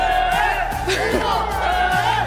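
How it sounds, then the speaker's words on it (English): A packed esports arena crowd roars and cheers during a Free Fire knockout-stage match, a dense sustained wall of voices with a voice talking over it. "The crowd is going crazy"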